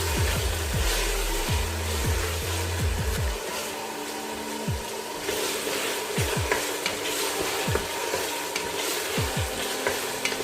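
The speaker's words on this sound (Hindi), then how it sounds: "पाँच मिनट के लिए इसको हाई फ्लेम पे भूनेंगे" Chicken keema fries on high flame in a pan, a loud continuous sizzle with clusters of quick spatula scrapes and stirs throughout.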